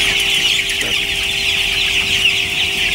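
Chickens cluck steadily on a poultry farm, a dense continuous flock murmur with a bright high hiss of birds or equipment over a low hum, no voices.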